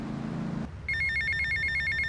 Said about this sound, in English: looks like we got a phone call